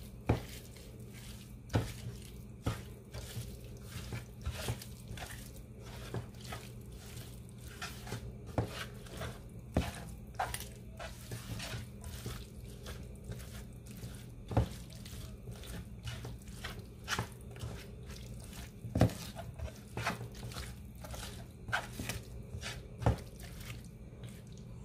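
Hand-mixing mustard paste made with mustard and soybean oil for a spicy mustard fish dish, heard as faint, steady wet squelches and sticky clicks close by, with no talking.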